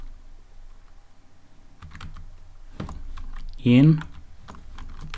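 Soft clicks from a computer keyboard as Python code is typed, faint and close, with a brief spoken word partway through.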